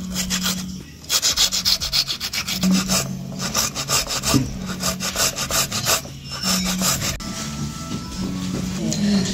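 Tomatoes are rubbed against a grater in quick, rhythmic scraping strokes, loud and close, with a few brief pauses between bursts.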